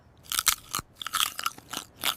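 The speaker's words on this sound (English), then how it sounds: "Listen to that crunch." Crispy banana chips crunch loudly and closely, with a rapid series of brittle bites and chewing crackles and no talk.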